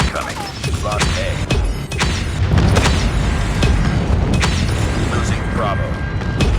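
Heavy, continuous explosions from airstrikes in the Call of Duty Mobile video game, a 10v10 Domination match on the Shipment 1944 map, with dense rumbling booms and blasts layered over one another throughout, loud and relentless.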